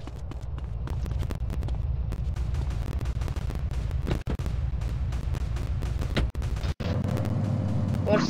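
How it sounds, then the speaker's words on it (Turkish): Gunfire in GTA San Andreas during a car race: a dense, continuous crackle of rapid shots over a steady engine drone, with brief gaps near the end. "Silah sesi duyuyorum."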